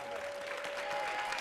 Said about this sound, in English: I'd like for you to give them a round of applause